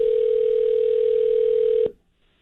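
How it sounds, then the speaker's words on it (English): A steady single telephone tone on a call to a blocked number, loud and continuous for nearly two seconds before cutting off abruptly into near silence. "It's just a phone ringing."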